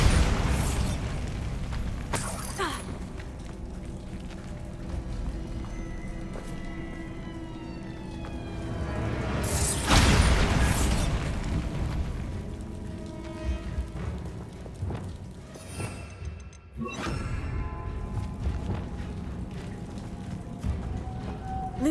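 Bombarda spell blasts in Hogwarts Legacy come as several booming explosions with crashing debris, set in game music and ambience. Big bursts land early and midway, with more rumbling impacts after.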